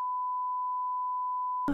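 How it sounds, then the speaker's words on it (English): One long, steady electronic beep tone holds evenly and fairly loud for well over a second, then cuts off abruptly into a brief burst of noise. "Is this a beep beep beep beep?"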